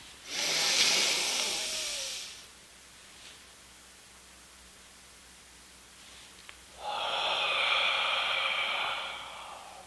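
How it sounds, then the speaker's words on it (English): A person doing box breathing, with a long, loud breath through the nose at the start, a quiet held pause, then a long audible exhale near the end. "you can just do 1 round of box breathing. Inhale for 4, hold for 4, exhale for 4, hold for 4."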